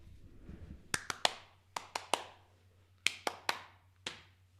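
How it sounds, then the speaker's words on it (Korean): A handful of sharp, separate hand claps come in small bursts at a live-streamed coin AMA, close and fairly quiet, with short pauses between groups and no voices. "박수!"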